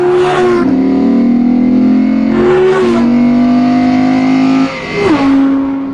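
Audi R8 V10 plus with a naturally aspirated 602-horsepower V10 revs hard and loud in three rising bursts, each climbing in pitch, then dropping briefly on a shift before pulling again.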